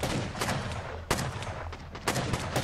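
Gunfire pops off to the side during a raid in the video game Rust, a run of sharp shots with three louder cracks standing out over a rumbling background.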